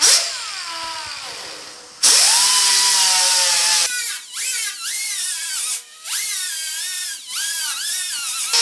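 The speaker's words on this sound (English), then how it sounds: "Let's sand the paint off here" A power sander whines loudly against the cab of a 1950 Chevy truck, stripping paint in a steady run that drops briefly several times as the tool lifts and reloads.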